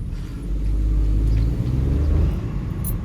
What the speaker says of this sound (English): as you can hear, like that engine sound